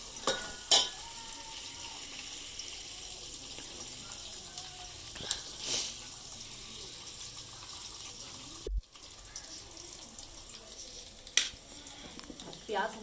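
Onions browning in a pan for an aloo matar dish sizzle quietly and steadily, broken by occasional clicks, clatters and utensil knocks.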